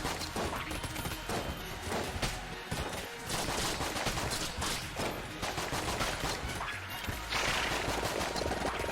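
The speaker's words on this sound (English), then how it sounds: "Must keep shooting, always shooting" Gunfire in Enter the Gungeon: constant rapid shooting, dense and fairly quiet, with sharp repeated shots and crashes layered over busy game noise throughout.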